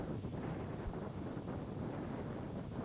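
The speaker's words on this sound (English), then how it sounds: "Very windy at this spot" Strong wind roars steadily across the microphone at Lippersly Lane and Flappit in 1994, where riders compete on Tiger Cub motorcycles, a dense rumbling buffet that fills the whole stretch with no other clear sounds.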